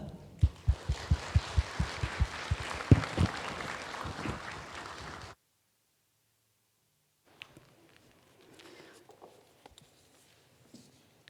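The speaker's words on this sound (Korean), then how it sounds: "우리 따뜻한 응원과 축복의 박수 보내드리겠습니다" A church congregation at a Sunday service claps in a crisp, rhythmic burst to welcome the pastor. The clapping stops abruptly, then near-silence follows with only faint scattered rustles.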